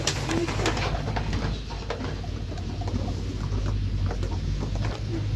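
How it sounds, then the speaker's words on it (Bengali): A pigeon chick and a dove sheltering together indoors while it rains outside, with soft low cooing close by over a steady background patter and rustle. "কবুতরের বাচ্চার সঙ্গে ঘুঘুর বন্ধুত্ব"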